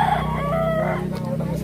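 A rooster crows in a drawn-out call at an outdoor chicken market in Lipa, Batangas, heard close over a low steady background hum and mixed with nearby voices.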